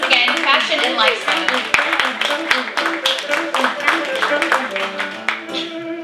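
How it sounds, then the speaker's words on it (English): Audience claps for the contestants at the Miss Tourism New York USA 2017 pageant finals, with sharp individual claps over music while a host's voice carries over it. "Let's hear a big round of applause for your girls once again"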